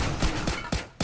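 Gunfire crackles in the action platformer Risk of Rain Returns as four sharp, evenly spaced bursts fire in quick succession, loud and close, over a steady game backdrop.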